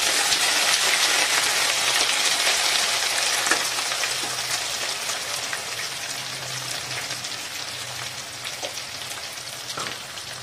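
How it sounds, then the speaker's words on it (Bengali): Small whole potatoes shallow fry in oil with cumin seeds, a bright, crackling, rain-like sizzle that starts loud and eases slightly, with a few spatula taps and no speech. "আলুটাকেও আমার একটুখানি ভাজা, অল্প জাস্ট একটুখানি ভাজা হয়ে গেল, মানে স্যালো ফ্রাই যাকে বলে"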